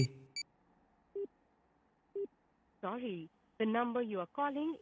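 Telephone call tone on a switched-off phone: a few short electronic beeps spaced apart, followed by a person speaking briefly over the quiet line.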